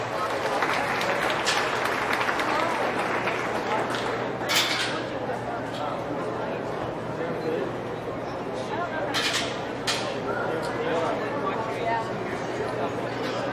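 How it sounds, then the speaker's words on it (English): Scattered applause and crowd chatter for kids at a county fair swine show, a moderate clapping wash in an indoor arena with a few louder bursts and people talking throughout. "Give these kids a nice round of applause."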